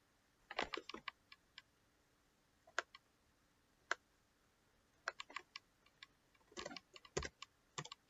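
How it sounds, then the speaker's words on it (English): Computer keyboard typing at a CAD workstation, with quiet, close, sparse clicks in short bursts and single taps separated by pauses, alone without talk. "I'm just going to type in 72 here."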